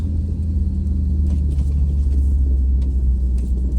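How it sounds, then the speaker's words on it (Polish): A truck crawls along an icy mountain road in second gear on low range, producing a steady, loud, deep engine rumble with a little cab rattle and no speech. "No i tutaj sobie jadę oczywiście na reduktorze, na dwójeczce."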